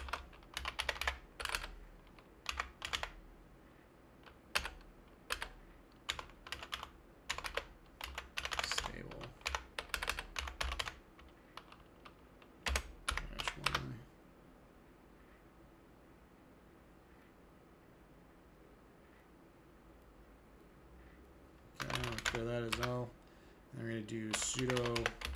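Terminal commands typed on a computer keyboard, bursts of rapid close key clicks separated by pauses, with a quiet gap midway and denser typing near the end; a voice speaks at times.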